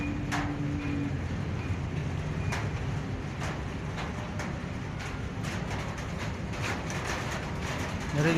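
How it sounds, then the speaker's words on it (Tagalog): Rain drums on a corrugated iron roof as a dense, steady patter, with scattered louder drops ticking out over the constant wash. "Narinig mga boss, yung tunog ng yero."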